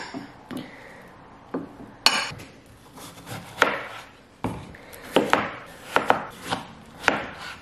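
A knife chops cucumber into pieces on a board with a string of sharp, close knocks that come irregularly at first and then in a quicker run, with no talk.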